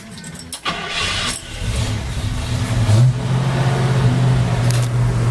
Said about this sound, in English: I don't like to, shift it into gear with it revving high like that.